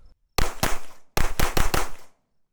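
Staccato XC pistol with a compensator firing in two quick strings of loud, sharp shots, two then four or five in rapid succession, close up with no talk.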